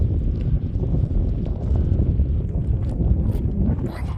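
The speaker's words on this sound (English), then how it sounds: "it's windy right now" Strong wind buffets the microphone on the Trans Catalina Trail, a constant low roaring rumble with gusty surges throughout.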